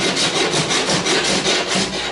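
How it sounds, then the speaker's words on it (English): A card scraper is drawn repeatedly across the wooden hull of a small boat under construction, giving close, rhythmic rasping strokes about four or five per second, loud and with no voices. "my card scraper."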